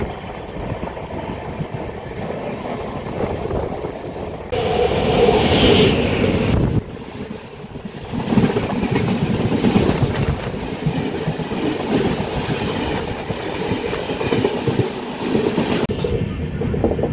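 An Indian Express train with new LHB coaches pulls out of Tuni station, steady close rumble and clickety-clack of wheels with wind buffeting the microphone throughout.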